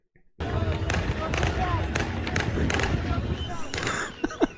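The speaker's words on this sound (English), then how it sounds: "The gunfire there in celebration as rebel supporters cheered in the streets" Sharp cracks of celebratory gunfire pop repeatedly over a dense, noisy crowd of rebel supporters cheering in a Syrian street, with a voice speaking beneath.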